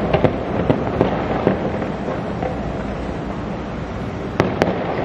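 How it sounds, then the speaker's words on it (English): Fireworks and firecrackers going off at midnight for Chinese New Year in Taiwan, a loud continuous crackling barrage with repeated sharp bangs, some nearby and some distant. "Fireworks are set off at the stroke of midnight to scare away evil spirits and celebrate the coming of the new year."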